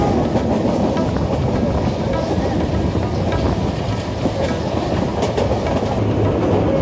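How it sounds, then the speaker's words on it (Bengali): A train rolls across a bridge over the Meghna river in Bangladesh, its wheels and carriages giving a steady, loud rumble with a faint clickety-clack, recorded from inside near an open window with wind buffeting throughout. "এখন আমরা ট্রেন দিয়ে মেঘনা নদী পার হচ্ছি।"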